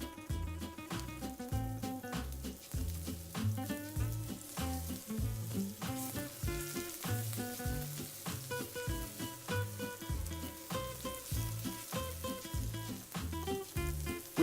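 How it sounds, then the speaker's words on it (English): Scaloppini browning lightly in a very hot pan of olive oil, a steady dense sizzle running throughout with soft stirring touches and a faint tonal hum underneath, no voices. "a little olive oil, the pan's very hot. And then we're just going to lightly brown these."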